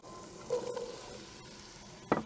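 Carrots and potatoes frying in a Dutch oven, a quiet soft sizzle with stirring scrapes and a brief sharper clatter near the end.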